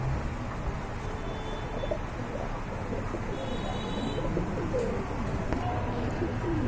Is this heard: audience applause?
no